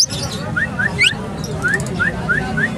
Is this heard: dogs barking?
no